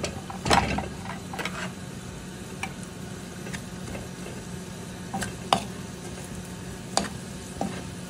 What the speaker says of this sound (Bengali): আমার শুটকি ভাজাটা শেষ, এখন দিয়ে দেবো পেঁয়াজ রসুন।